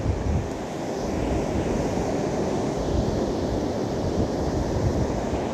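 Wind and surf on a sandy beach at sunrise, a steady broadband roar of breaking waves mixed with gusting wind buffeting the microphone, continuous and fairly loud with no talk.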